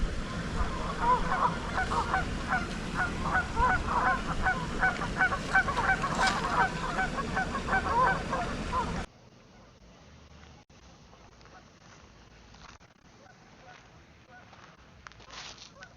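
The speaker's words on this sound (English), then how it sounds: "the geese are sure going off right off of that island over there" Geese honk repeatedly in a noisy chorus at a moderate distance from an island on a small lake, then the sound drops away to a quieter outdoor background.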